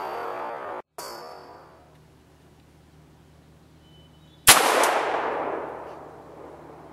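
Two sharp pistol shots ring out outdoors, the first short and clipped, the second louder with a long fading echo, separated by a few seconds of quiet.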